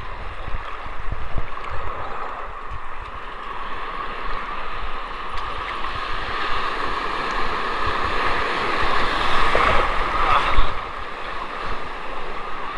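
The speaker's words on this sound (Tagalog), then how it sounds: "Lakas ang alon." Strong sea waves heard outdoors as a loud continuous wash and rumble with gusty wind buffeting the microphone, swelling toward a surge near the end, no voices.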